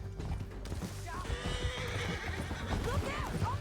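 In the video game Red Dead Redemption 2, horses gallop with rapid clip-clop hoofbeats and a horse neighs loudly, while voices talk over the action.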